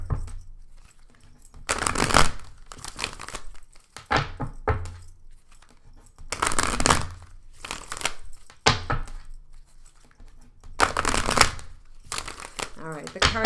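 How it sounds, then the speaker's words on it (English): Tarot cards shuffled in several bursts, crisp riffling rasps separated by pauses and light handling thumps, close up with occasional soft talking in between. "One more shuffle for good luck,"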